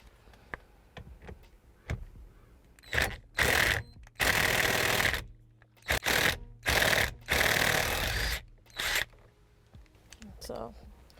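A power tool spins off the center bolt of a Tesla Model 3 steering wheel, giving several loud, close buzzing bursts of a few seconds each, separated by short pauses, with quiet moments at the start and end.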